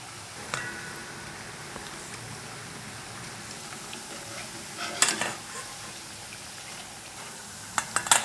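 Yakgwa, Korean honey cookies, fry in oil with a soft continuous sizzle while a utensil stirs them, with a few sharp scrapes and clinks against the pan.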